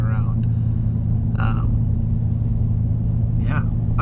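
A truck fitted with a new exhaust drives along, its engine giving a steady, low, loud rumble throughout, with brief faint sounds over it and no talking.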